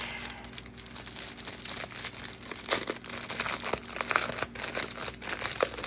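Plastic baggies from a diamond art kit being opened up close, with continuous crinkling and rustling broken by sharper crackles and tearing pops.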